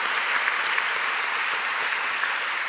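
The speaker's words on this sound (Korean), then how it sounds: "제가 아버지 하나님께 감사와 영광의 박수 올려드립니다." A church congregation at a 42nd anniversary worship service claps in thanks, a dense, even burst of applause that fills the room throughout, with no voices above it.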